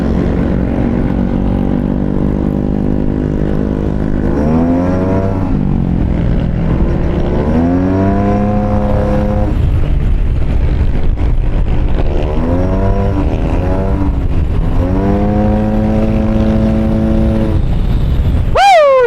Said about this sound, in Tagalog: Daming motor sa Antipolo, no?